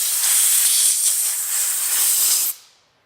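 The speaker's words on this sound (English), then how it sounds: "Shooting the compressed air in there," Compressed air blasting over car paint protection film during installation: a loud, steady hiss for about two and a half seconds, then an abrupt cutoff with a short fading tail.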